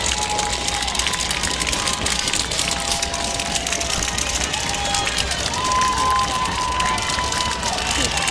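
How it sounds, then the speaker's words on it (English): Steady, loud crowd rumble fills a high school football stadium during a Smithville Warriors game at Grain Valley Eagles, a continuous wash of murmuring voices and noise with a few whistle-like tones riding on top. "this crowd is rumbling again"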